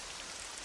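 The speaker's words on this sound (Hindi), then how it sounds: "बाहर इतनी तेज बारिश हो रही है" Heavy rain pours down outside as a dense, even hiss of countless drops, constant and moderately faint across the brief moment, with no voices.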